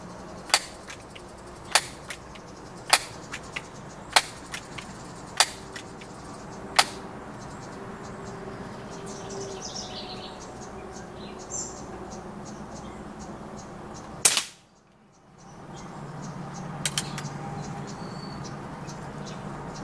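A Crosman 1322 .22 air pistol is handled outdoors, with a series of sharp, evenly spaced clicks and snaps from pumping and firing, then a brief loud crack before a short dropout and faint background ambience.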